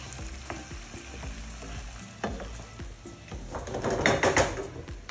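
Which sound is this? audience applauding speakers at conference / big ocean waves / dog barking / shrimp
shrimp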